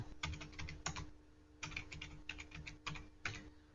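Code being typed on a computer keyboard for MATLAB image filtering, heard as several quick bursts of close, crisp key clicks separated by short pauses, with no talking.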